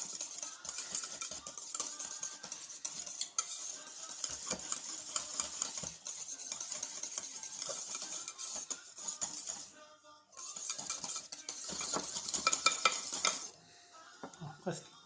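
Cream being mixed in a bowl for a tropézienne: continuous scraping and clinking of a utensil against the bowl in quick, uneven strokes, close up, with a brief pause midway.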